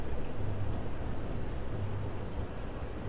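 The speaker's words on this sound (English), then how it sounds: "Or maybe the rain was just louder." Steady rain pours down without a break, a dense, even hiss with a low rumbling undertone, fairly close and continuous throughout, with no voices over it.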